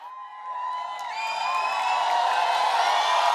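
A studio audience at a television comedy show cheers and whoops with rising applause, a sustained crowd roar building louder across the clip.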